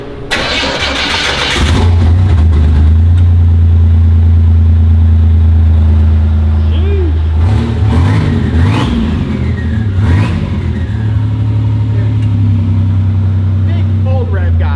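A Buick Grand National is cold-started up close. The starter cranks briefly, the engine catches into a loud, steady low idle, and a few sharp revs rise and fall midway before it settles again, with voices talking over it.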